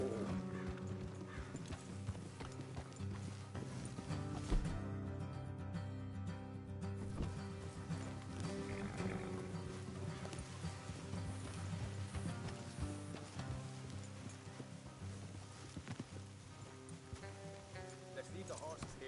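Horse hooves clip-clop steadily beneath talking and an orchestral score while riding along a road in Red Dead Redemption, with one hard knock partway through.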